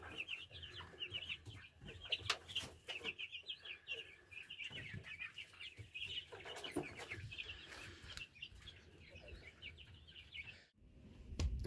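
Backyard hens cluck and chirp continuously at close range, with rapid overlapping calls and occasional louder squawks in a quiet outdoor setting.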